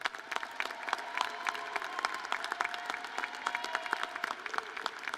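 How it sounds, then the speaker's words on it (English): Steady applause fills a commencement ceremony as the audience claps for returning graduates of the Class of 2020 and Spring 2021, dense, even clapping from a large crowd lasting throughout. "everyone a round of applause for all of these graduates."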